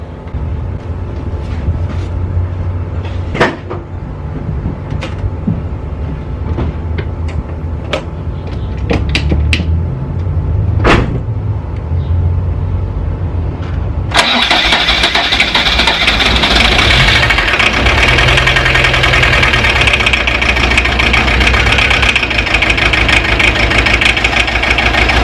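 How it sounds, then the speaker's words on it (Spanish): Fiat Ducato 1.9 diesel engine after its injectors are bled: several clicks and cranking attempts, then at about fourteen seconds it fires up into a loud, steady idle with a knocking diesel clatter. "Puse en contacto sin los calentadores y le di hasta que se cargó la bomba, así que supuestamente tiene que arrancar bien."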